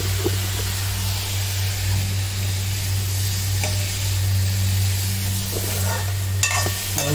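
Paneer is stirred with salt in a hot frying pan, giving a loud constant sizzle with scraping stir strokes over a steady low hum of a stove or fan.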